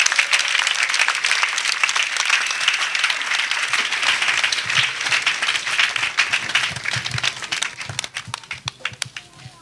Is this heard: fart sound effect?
no